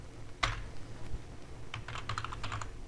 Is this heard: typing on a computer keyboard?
yes